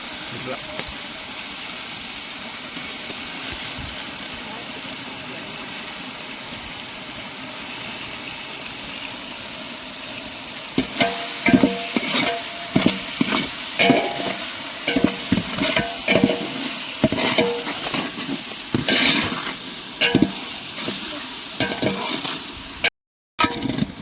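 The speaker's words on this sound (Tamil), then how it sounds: "அரைச்சி வச்ச சின்ன வெங்காயத்தை ஊற்றிக்கலாம்." Ground shallot paste hits hot oil while frying for chicken biryani: a steady sizzle first, then a run of close, rhythmic stirring scrapes over the frying noise once the stirring starts.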